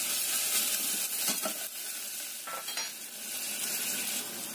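Garlic, shallots, ginger and galangal fry in a pan, giving a steady, close sizzle with occasional scraping stirs and no talk.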